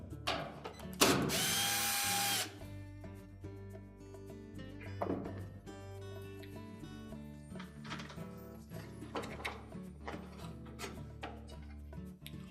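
A power tool drives out screws holding the end caps on a GE washer, with a loud burst of whirring near the start, then quieter ratcheting, clicking and handling noises from close by.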